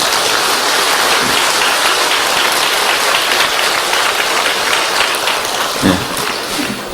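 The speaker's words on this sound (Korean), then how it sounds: "감사의 박수 한번 보내주시기 바랍니다" A church congregation clapping in thanks for a pastor's sermon, a dense, continuous roar of many hands that stays loud and even throughout.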